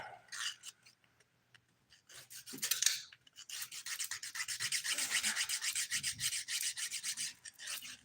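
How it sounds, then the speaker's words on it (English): Close, rhythmic rasping strokes from the 180 grit side of a nail file working over a dip-powder nail, settling into a steady back-and-forth filing pattern after a few scattered scrapes. "I'm using the 180 grit side of my file."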